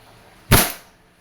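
A single sharp, close pop and short hiss come from a WE M92 silver full-metal airsoft pistol firing once, standing out against quiet surroundings.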